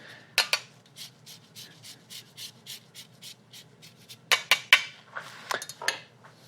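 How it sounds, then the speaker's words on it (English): Microplane zester rasping lemon zest in a kitchen, a run of quick, light scraping strokes in steady rhythm, then a louder burst of several sharp scrapes near the end, close and with no talk. "I've got a microplane. This is a great tool if you've never used it."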